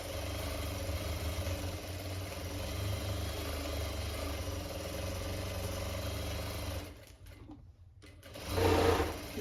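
A sewing machine runs steadily, stitching elastic onto winter pyjamas, a close continuous motor hum and needle chatter that stops briefly, then a short burst of handling noise; no speech.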